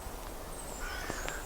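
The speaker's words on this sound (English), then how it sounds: "listen to the crows" Crows caw outside, a few short, faint calls heard at a distance over a soft, steady outdoor background.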